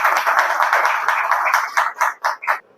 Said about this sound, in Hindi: ताली से स्वागत करेंगे इनका।